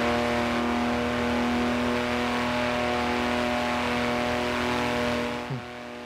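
A sustained car engine drone in Forza Horizon 4 holds a steady pitch, then eases off near the end as the revs drop, with a slight tire sound.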